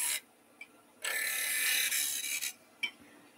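Round nose scraper cutting plywood spinning on a wood lathe for a toy race car: a close, harsh scraping rasp in two main passes, the longer one about a second and a half, with brief ticks and quiet pauses between, no talking.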